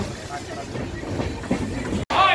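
A train pulling into Bilaspur station in India; a continuous rumble of rolling carriages with faint clicking, heard from inside the coach, then a brief cut and a sharp hiss at the end.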